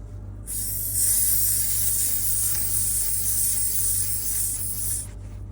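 Steady high air hiss from a Milwaukee M12 tire inflator hose as it connects to a tire valve, rising sharply, holding for about four seconds, then cutting off, close and alone over a low hum.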